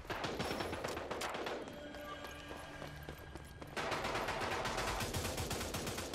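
Sniper rifle shots ring out in the video game Rogue Company amid dense gunfire, with loud sharp reports layered over continuous combat noise throughout.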